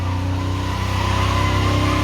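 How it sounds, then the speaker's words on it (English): A car doing burnouts at a drag strip, its engine held at a high, steady rev with a continuous buzzing drone and faint tyre noise, loud and close throughout. "we're doing burnouts"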